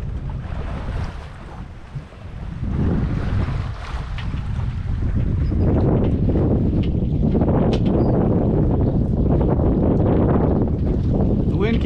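Gusting wind roars across the microphone aboard a sailboat on a lake, loud and continuous with water lapping against the hull beneath it.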